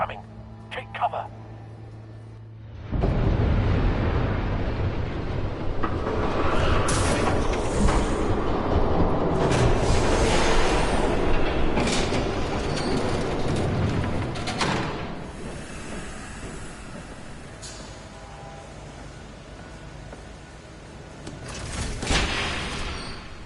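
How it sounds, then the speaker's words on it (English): A video game train rumbles past close by, beginning abruptly and building to a loud, sustained clatter of wheels and cars before gradually fading, with a few sharp knocks and bangs scattered through it. "There's a train coming. Take cover."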